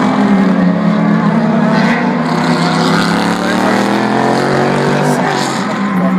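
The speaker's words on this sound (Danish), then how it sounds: "Det er fedt at høre biler" Race cars roaring past at Le Mans, a steady loud engine drone that fills the whole stretch, heard up close from the trackside crowd.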